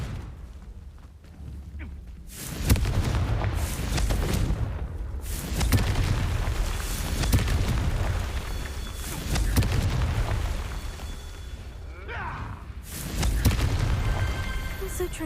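Confringo explosive spell blasts in Hogwarts Legacy, loud booming explosions rolling one after another in heavy rumbling waves, with a voice speaking over the combat at times.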